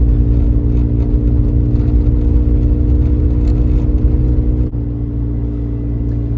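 Low, steady engine drone with a deep rumbling exhaust note from a rotary-engine FB RX-7 with Racing Beat exhaust, cruising at 20 mph in third gear at 1700 RPM, heard from inside, with a brief dip near the end.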